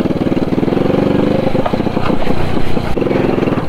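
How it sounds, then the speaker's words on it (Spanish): Motorcycles pulling up and idling at the base of Cerro Rico silver mine in Potosí, Bolivia, a loud, close, chugging engine rumble with throttle blips and uneven revving before settling back to idle. "Acá vamos a dejar las motos."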